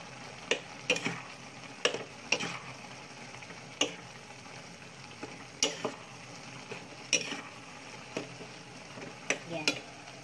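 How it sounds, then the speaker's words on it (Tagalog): Pansit bihon noodles with soy sauce and sugar are stirred in a pan, giving a soft sizzle broken by sharp, irregular clicks of a utensil against the metal, close and alone. "Haluin natin."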